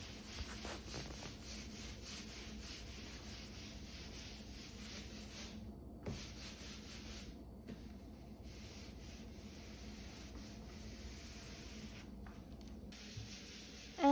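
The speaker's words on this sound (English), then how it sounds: "When I wax my cutting boards, I find that if I rub quickly like I am right now" Steady, brisk rubbing of wax into a wooden cutting board by hand, a continuous close-up friction hiss with brief gaps, with no talking.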